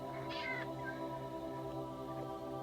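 A cat meows in Minecraft, a single short meow heard over a steady hum of game background music.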